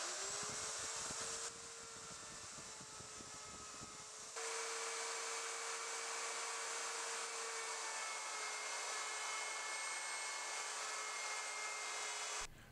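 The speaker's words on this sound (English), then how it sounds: "Now I'm going to router out the space where the USB hub will sit inside the desk." Router cutting a recess into a wooden desk for a USB hub, a steady loud high whine running continuously with a brief shift in load partway through, no talk.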